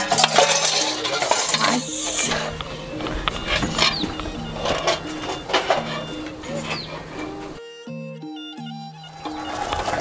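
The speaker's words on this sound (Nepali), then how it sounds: "अब भाँडा माझ्दै गर्दा" Clinking and scraping of dishes and utensils being washed, with a steady tune playing alongside.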